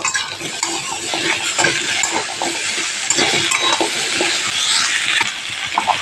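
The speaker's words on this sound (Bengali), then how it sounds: "এই সবজিগুলো প্রথমে একটু ভালো করে ভেজে নেব।" Potato, taro and pumpkin pieces fry in hot oil in a pan for pui chanchra, a steady close sizzle with a spoon stirring and clinking against the metal throughout, no voices.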